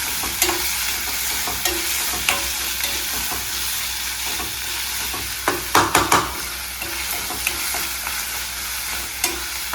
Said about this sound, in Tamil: கொஞ்சமாக உப்பு சேர்த்துட்டு நம்ம என்ன பண்ண போகிறோம், நல்லா வதக்க போகிறோம்.